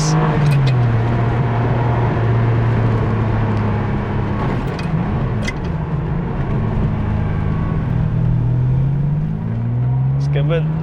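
A 1997 Ferrari 550 Maranello's V12 engine pulls hard under acceleration, a loud, continuous drone that stays near and rises steadily in pitch as it climbs through the gears.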